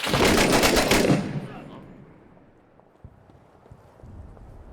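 A loud burst of rapid gunfire crackles for about a second in the video game Six Days in Fallujah, then fades into quieter ambient game noise with a few faint distant pops.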